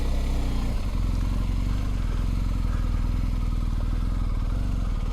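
A BMW R1250 GSA adventure motorcycle's engine runs steadily on a dirt trail, a loud, close, throbbing boxer-twin rumble with light clatter and no break, and nobody talks over it.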